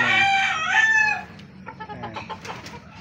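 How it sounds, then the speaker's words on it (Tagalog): A white rooster, a gamefowl stag kept on a farm, crows loudly and close for about a second, then follows with short, softer clucks and scattered rustling. "update muna tayo sa puting manok natin"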